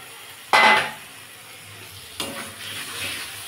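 Fried prawns tipped into a pan of sizzling onion masala land with a sharp clatter and hiss, followed by a softer second stir-and-sizzle that fades to a quiet simmer.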